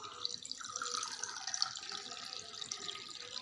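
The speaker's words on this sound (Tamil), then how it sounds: "நம்ம இந்த தண்ணியும் சேர்த்துக்கலாம்" A thin stream of water pours steadily into a pan while making Maggi noodles nearby, a gentle continuous trickle at low volume.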